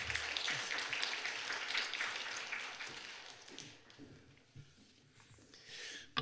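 A church congregation applauds during a Sunday worship service at Ilsan Chungshin Church, a dense, steady clapping that fills most of the stretch and then thins out toward the end.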